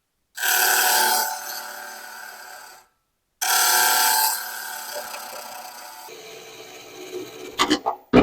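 Green wood bowl blank turning on a wood lathe at just over 1100 RPM, a loud close rasping whir as the tool cuts, stopping briefly, resuming, then fading into rattling knocks.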